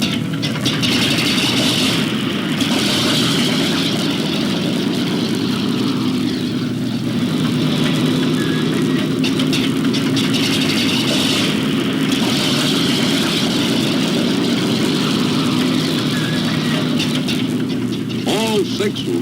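The six piston engines of a B-36 Peacemaker bomber drone and rev steadily before takeoff, a loud continuous mechanical roar with periodic surges in pitch.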